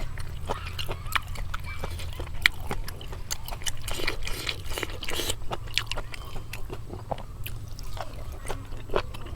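Crispy boiled pork stomach is chewed close up with repeated crunchy bites and wet squishing, irregular and moderately loud, over a low background hum.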